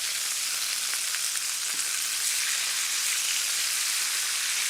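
A ribeye steak sears in a hot pan, giving off a steady, close, bright sizzle with fine crackling that carries on evenly throughout, with no talk over it.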